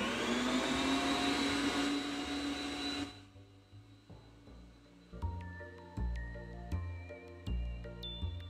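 An electric mixer runs in cake batter with a loud, steady motor whine that cuts off after about three seconds, followed by quieter irregular clunks and scraping from the bowl, no talk.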